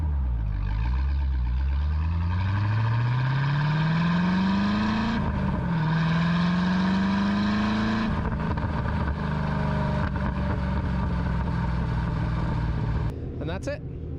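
A Corvette fitted with an aftermarket exhaust revs up in long rising sweeps, its deep engine note climbing, dipping and climbing again before cutting off, loud and close.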